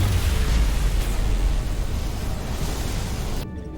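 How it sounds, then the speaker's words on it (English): A dilithium crystal blows apart in the Star Trek Resurgence video game, a dense roaring blast of broadband noise that sustains for several seconds before cutting off abruptly. "Dilithium explosion! Is that energetic enough?"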